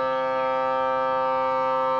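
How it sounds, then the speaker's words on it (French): A civil defense siren holds a loud, steady tone, unbroken from start to finish with no voices over it. "Oula, il y a la sirène."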